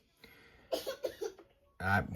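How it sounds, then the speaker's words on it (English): A child coughs a few times in short bursts nearby, mixed with brief vocal noises and a quieter stretch between. "son is in here with me, just if you hear him coughing and yelling and screaming in the background"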